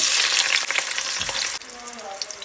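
Chopped onion goes into hot oil where mustard seeds have already popped, producing a loud, close, crackling sizzle that drops noticeably in intensity about two-thirds of the way through and then carries on more softly.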